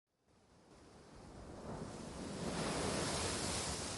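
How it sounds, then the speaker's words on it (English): Ocean waves surge and crash with a steady sea breeze in the visual novel Umineko When They Cry, rising from near silence into a loud, continuous wash of surf that swells and holds. "The sound of crashing waves. The sound of a tide surging. The noise of a sea breeze."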